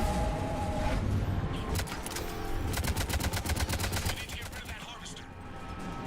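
Rapid bursts of gunfire from the video game Mass Effect 3, a fast rhythmic volley in the middle over dense game noise and background effects.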